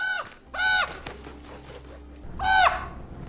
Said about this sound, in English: That's a crow or a raven, right?